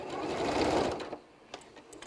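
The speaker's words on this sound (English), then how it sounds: "And we'll back stitch there." A sewing machine back stitching fabric whirs steadily for about a second, then stops, followed by a few small mechanical clicks and taps.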